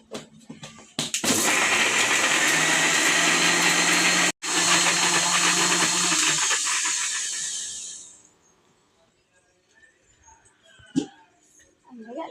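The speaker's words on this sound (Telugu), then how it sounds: "ఇప్పుడైతే మిక్సీ పట్టేస్తా." A kitchen mixer grinder whirs loudly and steadily for several seconds as it blends ginger, garlic and fenugreek into a paste, with a brief cut-out midway before the motor winds down into quiet.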